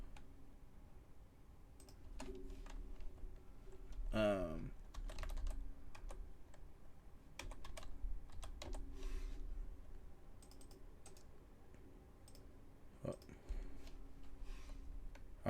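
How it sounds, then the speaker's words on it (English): Typing on a computer keyboard during web coding, scattered soft key taps in uneven bursts over a long stretch, faint and close, with a voice talking now and then. "There's like a slight delay, and it's messing with my typing."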